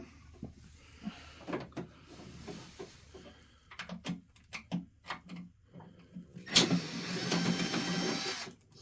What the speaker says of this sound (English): First step is to unscrew the Phillips number 2.